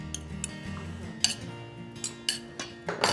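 A spoon clinks against a bowl in scattered, irregular taps while eggs and Italian herbs are mixed into a meatball mixture with breadcrumbs in a firehouse kitchen, quiet and close.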